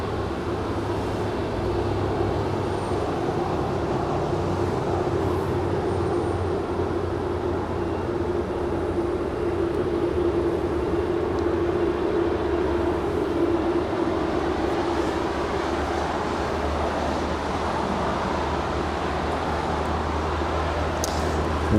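At night at LAX, an airliner lands on runway 25 left, giving a long, steady, low jet roar that stays even and fairly distant throughout, with no talking.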